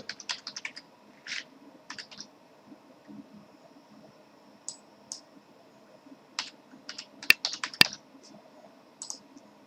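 Fingers type on a computer keyboard in short, irregular bursts of crisp clicking keystrokes, close and isolated, with quiet pauses between runs and a couple of sharper clacks near the end.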